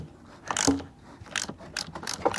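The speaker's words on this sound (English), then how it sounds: "Now with that 15/16 socket or 24mm, have a hand underneath, just holding the spring or strut assembly, and we'll undo the strut." A ratchet fitted with a 24mm socket loosens the strut top nut on a Holden Commodore VT-VZ, giving several close, sharp bursts of clicking pawl ratcheting separated by brief pauses.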